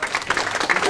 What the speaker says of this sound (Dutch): Applaus voor Gaatje Dodmaals.